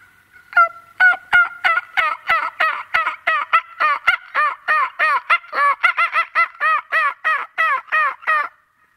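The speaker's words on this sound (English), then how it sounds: "Probably why these turkeys are out here going crazy." Wild turkeys gobble in a rapid series of loud, close, rattling calls out in the woods on a mild December day, with many bursts repeating steadily and no talking.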